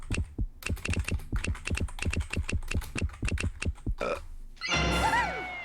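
Rapid clacking of computer keyboard keys, a dense run of close, loud keystrokes with brief pauses, ending in a short burst of other sounds.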